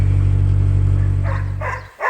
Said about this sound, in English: he's usually barking at the pigeons